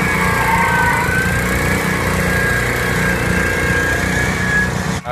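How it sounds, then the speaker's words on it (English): A small garden tractor engine runs steadily under heavy load pulling a 2,200-pound stone boat at a county fair tractor pull, a loud continuous drone with a high whine riding on top, no talking. "We're doing a stone boat garden tractor pull."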